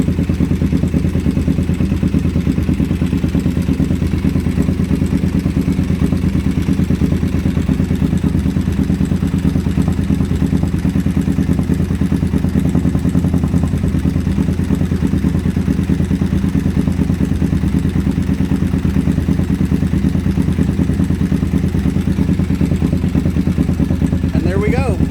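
A motorcycle engine idling steadily during carburetor balancing, a loud, close, even low rumble with a mechanical clatter that stays constant throughout.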